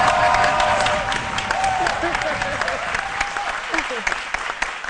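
Audience applause fills a comedy show hall, dense sustained clapping with crowd noise, fairly loud and steady before tapering slightly, with a voice heard faintly over it.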